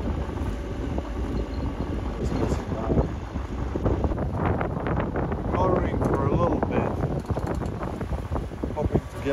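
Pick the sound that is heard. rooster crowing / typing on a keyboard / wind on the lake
wind on the lake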